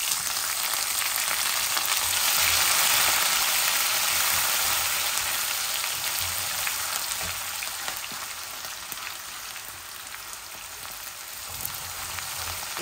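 Garlic cloves frying in oil with five-spice tempering for a jujube pickle, a continuous hissing sizzle that stays steady and fairly close, slowly easing slightly in loudness.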